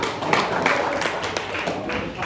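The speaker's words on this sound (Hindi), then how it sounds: "ये जोरदार ताली" An audience at a motivational talk claps loudly, a close, uneven burst of many hands with distinct sharp slaps running for a couple of seconds.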